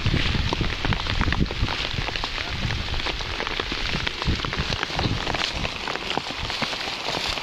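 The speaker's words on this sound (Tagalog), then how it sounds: "Kusog ra gyud hapon ang uwan sa." Heavy afternoon rain pours down outdoors in a dense, steady roar of drops that stays loud and unbroken throughout, with no voices over it.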